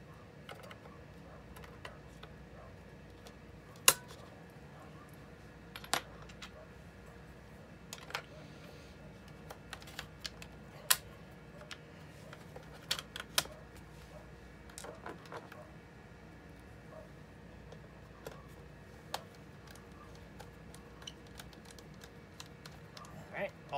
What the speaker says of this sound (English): let's try the keyboard one more time